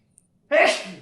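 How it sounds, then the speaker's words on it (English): A single sharp sneeze bursts out after a brief quiet pause, close and loud, then trails off. "I'm gonna sneeze."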